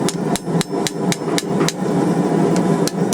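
Steady hammer blows ring out on hot metal while a poppy flower is forged and cleaned up, about a dozen sharp, loud, evenly spaced strikes with no talking.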